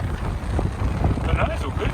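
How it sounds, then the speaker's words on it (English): Strong wind buffets the microphone aboard a sailing boat in a steady low roar, with water rushing beneath and a voice faintly audible under the gusts. "It's gone really windy now."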